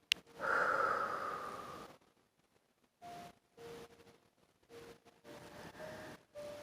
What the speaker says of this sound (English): Take a nice deep breath in and a nice deep breath out.